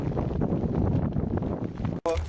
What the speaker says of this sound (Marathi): वारा तर फुल जोरात चालू आहे.